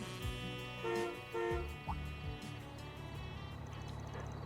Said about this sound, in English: Who'd honk their horn in the middle of the night?